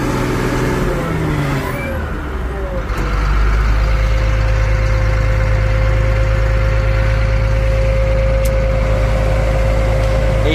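A 1994 Caterpillar 953B track loader's diesel engine idles with a heavy low rumble, then the throttle is opened and it settles into a louder, steady higher-revving drone, close up and alone.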